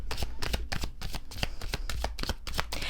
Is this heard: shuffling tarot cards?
yes